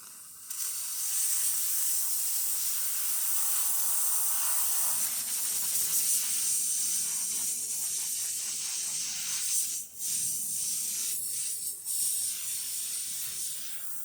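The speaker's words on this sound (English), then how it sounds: "So let's test the steamer." Steam wand of a La Pavoni Europiccola espresso machine hissing steadily for about fourteen seconds, a loud close rush of steam with faint gurgling and sputtering toward the end.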